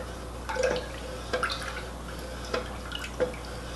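Fragrance oil is added to melted IGI 4627 comfort blend candle wax at about 130 degrees, heard as a handful of soft, separate drips spaced irregularly over a low steady background hum.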